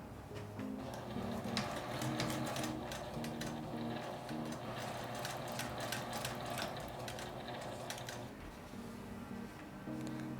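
A sewing machine stitching a magnetic pot holder runs with quick, repeated mechanical clatter and a humming motor in short bursts, the needle rattle fairly close and faint overall, with a brief pause near the end.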